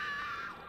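A stock female scream from the 1998 Resident Evil 2 video game, one sustained high-pitched cry that starts strong and trails off quickly, heard alone and fairly quiet.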